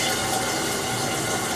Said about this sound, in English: Put water into it.